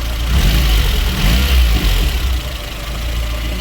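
A VAZ 2109 car engine with about 80,000 km, after a cylinder head gasket replacement, running steadily, a low continuous rumble with a slight rise and fall in revs, close by and loud.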